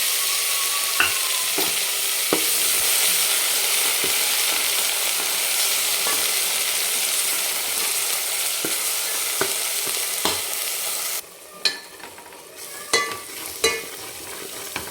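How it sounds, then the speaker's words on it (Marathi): Onion-coconut masala paste for a Sunday-special mutton curry fries in a pan. It gives a steady close sizzle broken by repeated scraping stirs and sharp utensil knocks, and the bright hiss thins out near the end. "छान परतून घ्यायचं आहे"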